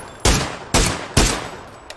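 Three loud, sharp gunshots from PUBG, evenly spaced about half a second apart, each cracking up close with a short reverberant tail, plus a faint later pop.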